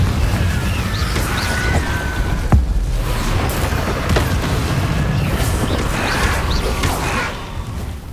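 In the Hogwarts Legacy video game, a Confringo fire spell bursts into a sharp, sudden blast, followed by ongoing rumbling, crackling game ambience that fades near the end.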